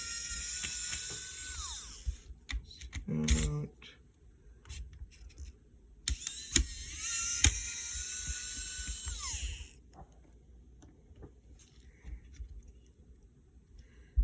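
Small screws being backed out of a Game Boy DMG handheld, heard as faint, scattered clicks and scraping ticks against low background hiss, with two brighter bursts of whirring or rattling.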